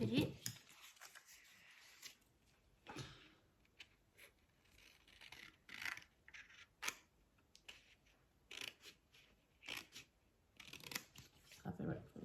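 Scissors snip through paper artist trading cards in a run of short, crisp cuts with paper rustling between them, close and fairly quiet, with soft voices now and then.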